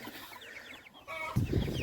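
Chicks at a market cheep and chirp in short high calls, with a rustling, shuffling noise rising midway.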